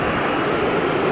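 An airliner departing Amsterdam Schiphol Airport gives a broad, steady engine roar, loud and unbroken across a brief moment.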